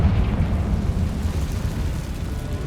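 A Confringo fire spell explodes in the Hogwarts Legacy video game: a sustained, loud, low rumbling roar that slowly fades, with no talking.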